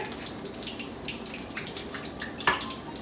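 A little water poured from a tap or jug into a bowl of plain salted yogurt, a soft light trickle with faint splashes, ending in a brief sharper clink near the end, with no talking.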